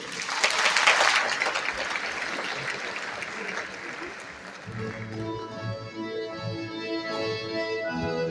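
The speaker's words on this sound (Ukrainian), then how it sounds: "Бургові оплески!" Theatre audience applauding loudly after a carol performance in a drama theatre, dense clapping that peaks early then fades as instrumental music with a steady beat takes over.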